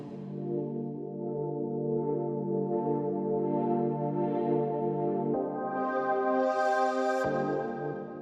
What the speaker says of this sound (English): The first sound that we have here is this pad